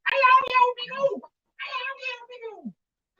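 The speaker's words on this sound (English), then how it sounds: "That's a cat." A cat meows loudly and close by, giving two drawn-out, whiny yowls separated by a short pause, with no other sound around them.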